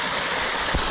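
Rushing water from a waterfall on a slippery rocky path, a steady broadband roar close by with a brief low thump near the end.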